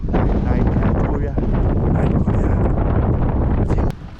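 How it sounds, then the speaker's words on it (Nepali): Cold night wind buffets a handheld microphone on a street in Korea, a dense, roaring rush that barely lets up before easing near the end. "चिसो हावा चलिरहेछ हैन."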